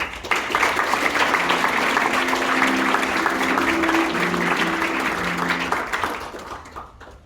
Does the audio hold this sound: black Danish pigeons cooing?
no